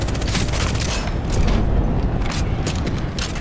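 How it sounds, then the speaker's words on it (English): A big grenade explosion in the Apex Legends video game, a dense, loud roaring blast that fills the whole stretch with rumbling bursts and crackle, close and continuous, with no talk over it. "That's a big air grenade."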